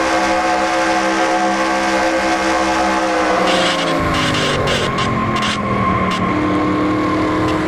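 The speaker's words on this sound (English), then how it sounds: "Riding on board with the Miller Lite Dodge of Sean Galligan" Engine of the Miller Lite Dodge droning loud and steady from on board during a racing video game event at Talladega, with the pitch easing and shifting midway as the car slows.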